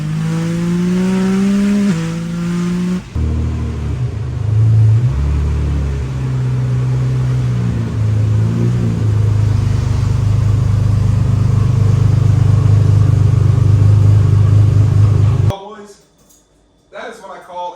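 A 1,700-horsepower Nissan GTR, freshly refreshed engine and carrying two occupants, pulls hard with a loud, sustained engine roar that climbs through gear changes, close and dominant before cutting off abruptly near the end.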